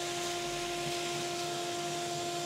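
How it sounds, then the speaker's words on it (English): Constant loud roar of a shop vac sucking ash out of a Big Green Egg ceramic grill, steady with a hum throughout, then cutting off abruptly at the end, no talk. "Simply take your shop vac or whatever you wanna use."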